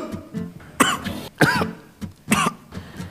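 A man coughs several times in short, harsh bursts spaced about half a second to a second apart, close and fairly loud in a quiet room.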